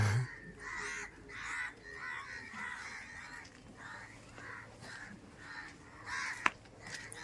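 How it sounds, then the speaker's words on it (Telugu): Crows caw repeatedly in a rough, rhythmic series from a moderate distance, with a brief sharp click near the end. "కాకులు దుర్బా ఎన్ని ఉన్నాయి కాకులా"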